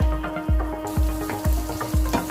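Freshly ground ginger garlic paste fries in shallow oil with quail for a whole-quail fry, a steady close sizzle broken by regular stirring scrapes about every half second, with no talk.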